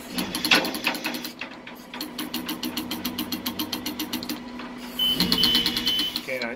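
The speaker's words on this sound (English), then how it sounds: "rotation indicator sounds like." Inside a new Manitex crane's tilting cab, the rotation indicator gives a fast, steady train of mechanical clicks that runs for several seconds and swells louder near the end, alongside faint background hum.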